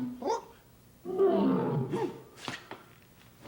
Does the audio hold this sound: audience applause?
no